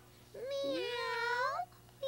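Children's voices imitate a cat's meow in a French children's television show, a single drawn-out rising and falling miaow sung together, clear and close, followed by the start of another.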